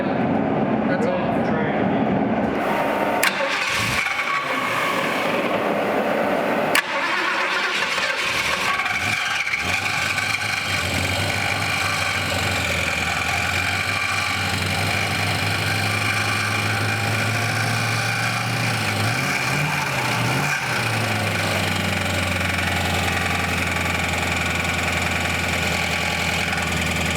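A 1947 Ford V8 engine idles steadily throughout, a continuous low mechanical rumble close by, with some shop noise and brief clatter early on.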